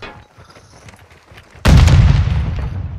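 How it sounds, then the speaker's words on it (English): A loud grenade explosion in a video game hits suddenly after a quieter stretch of faint game noise, then its deep boom rumbles and slowly fades. "I'm gonna throw a grenade cross."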